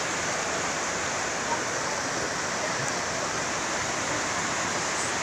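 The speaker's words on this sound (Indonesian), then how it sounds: "masih deras airnya nih" Swift water of the Kaligung River in Tegal rushes steadily under a bridge, a dense unbroken roar that stays close and even throughout, with no voices heard.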